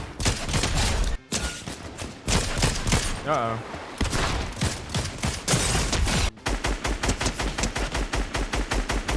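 Rapid bursts of gunfire in the video game Fortnite, dense overlapping shots filling most of the stretch, with a fast evenly spaced volley near the end and a brief spoken exclamation early on.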